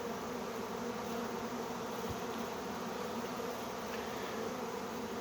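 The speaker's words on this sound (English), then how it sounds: "normally honeybees are not real defensive when they're in this phase, when they're in a swarming phase" A swarm of honey bees gives off a dense, continuous buzzing hum, steady and unbroken, as if heard up close from among the clustered insects.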